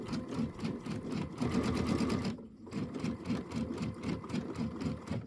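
A sewing machine stitches a Kimberbell Hello Sunshine traditional pieced quilt block in a steady, rapid, close-up whir that pauses briefly midway before resuming.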